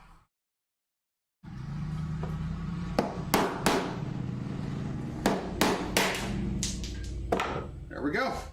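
A chisel being struck with a mallet while cutting wood for a saw till, several sharp knocks in uneven succession after a brief silence, close and loud over a steady background hum, with a voice speaking.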